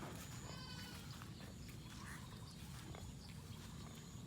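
Piglets, about thirty-two of them, squeal and grunt in a crowded farm pen, with overlapping high squeals over a constant dense rumble of nearby animal noise.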